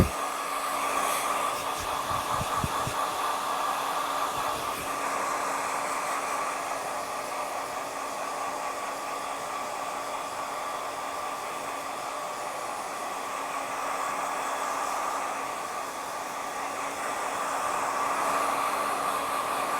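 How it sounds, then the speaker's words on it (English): A hair dryer blows steadily on hair during a textured crop haircut, a loud continuous whooshing hiss with a constant motor whine that holds for the whole stretch, no one talking. "I'm going to blow dry all this hair"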